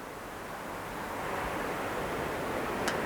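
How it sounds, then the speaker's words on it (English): Ocean surf washing in with the incoming tide, a steady broad rushing wash that slowly swells louder, heard alone without voices. "You can probably hear the waves more and more now"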